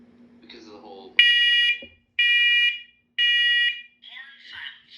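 A First Alert SCO500 wireless smoke and carbon monoxide alarm sounds three loud, evenly spaced piercing horn beeps, with a person talking just before and a faint voice after.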